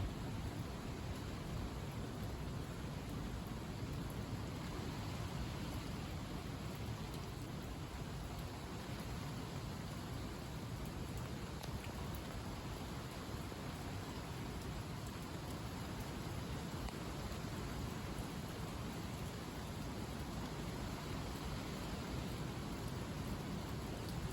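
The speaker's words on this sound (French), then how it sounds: "Voilà, il pleut encore." Steady night rain hissing evenly throughout, a dense wash of noise with no voices or breaks, moderately quiet and constant.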